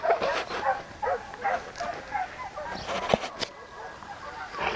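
Hunting dogs bark in short, irregular bursts across an open field during a wild boar hunt, some barks closer and louder, others fainter, with a few whimpers mixed in and no talk.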